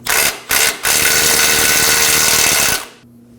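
Close power-tool bursts: an impact wrench with an 18mm socket loosens a nut on a front lower control arm link of a 2017–2024 Nissan Armada, two short rattling hits then a longer sustained run before stopping.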